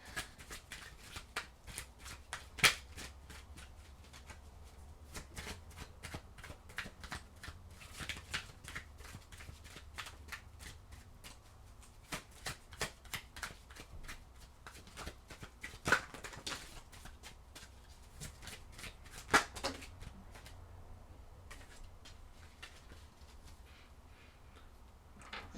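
Tarot cards are shuffled by hand in a quiet room, a run of crisp riffling and snapping bursts repeating irregularly throughout, close and alone.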